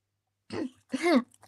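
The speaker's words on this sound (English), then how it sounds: "just need to clear my throat" A person clears their throat twice in quick succession, close and fairly loud, with brief silence around it.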